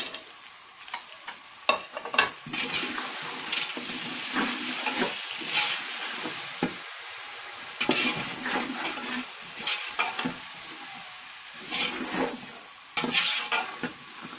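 Green peas frying in a pan for vegetable pulao, a loud steady sizzle with frequent scraping and clattering of a spoon stirring them, close and without talk.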